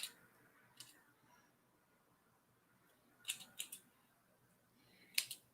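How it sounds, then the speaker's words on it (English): Scissors trimming wig hair: a few sharp, crisp snips, first one at the start, then a small cluster of quick cuts and a final snip near the end, close and fairly quiet with pauses between. "I just want to slowly but surely trim it away"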